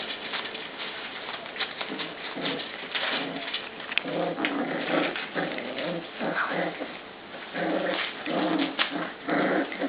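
Dogs growl and snarl steadily, with bursts of grumbling and chewing noises close by, the sounds rising and falling over a constant low background.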